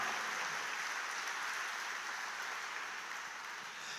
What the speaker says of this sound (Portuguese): E dar um aplauso a Jesus